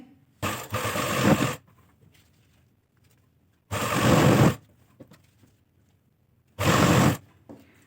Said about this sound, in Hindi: यहाँ पे किनारी पे सिलाई लगाएंगे।